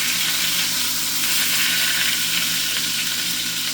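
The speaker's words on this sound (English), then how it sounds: "Just searing both sides." Pork tenderloin sears in a hot cast iron pan, giving off a steady, loud, dense sizzle that holds evenly throughout with no talking.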